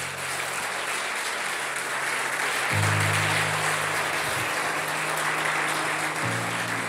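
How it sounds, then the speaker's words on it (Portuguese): A church congregation applauds the Lord with steady, dense clapping that fills the room for several seconds, while sustained low keyboard or organ notes hold underneath. "Aplauda ao Senhor por isso."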